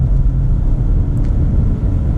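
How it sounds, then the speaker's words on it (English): A 2019 Subaru Legacy Sport sedan with a 2.5-liter 4-cylinder engine accelerating, heard from inside as a loud, continuous low engine rumble and road drone with no talk. "So let's get a little acceleration here with the Legacy to see how it performs."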